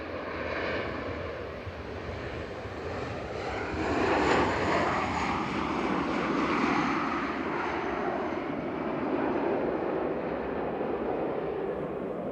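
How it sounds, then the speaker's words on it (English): EasyJet airliner departing Manchester Airport bound for Milan, a broad continuous jet engine roar that swells and holds steady at moderate distance, with no talk over it. "EasyJet departed in parallel to Milan GZWH with flight 3838."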